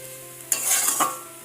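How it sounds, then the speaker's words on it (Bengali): Potatoes frying in a pan on a home gas stove, heard as a short, close burst of sizzling and stirring that swells and fades over about a second after a quiet start. "আর এখানে আলু ভাজছি"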